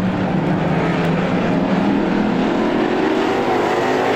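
Heat race cars at Star Speedway droning around the oval together, a continuous loud engine roar that holds steady throughout with no voices over it.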